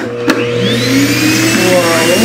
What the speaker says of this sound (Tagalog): ngayon itatry na natin itong Electrolux vacuum cleaner